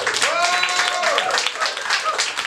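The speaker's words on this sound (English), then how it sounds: "Can you clap if you are local?" Audience at a live comedy show clapping and whooping, a burst of mixed applause with shouted cheers and a rising whistle-like whoop over it, close and lively.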